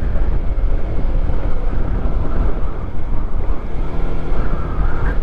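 Strong, cold wind roars steadily into the microphone during a motorcycle ride on a muddy rough road in Nueva Vizcaya in light drizzle, a constant loud buffeting with no talk.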